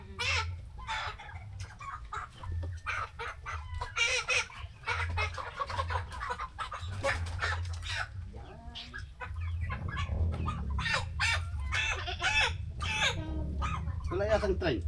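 Chickens being dressed for a wedding cluck and fuss in a rural yard in the Philippines, and people keep talking over the birds the whole time.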